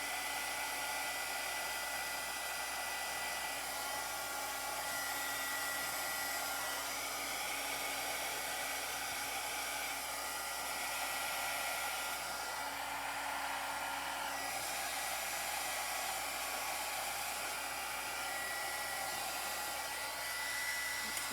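Hair dryer blowing on fresh paint on a thrifted chest during a DIY makeover, a steady, close whir with a high whine that runs unbroken for about twenty seconds, shifting slightly in pitch as it moves, with no talking.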